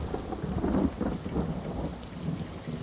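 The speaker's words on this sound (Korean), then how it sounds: "그날은 비가 내리고 있었습니다" Rain falls steadily while deep rolls of thunder rumble through the middle, fairly loud and close, with no voices over the storm.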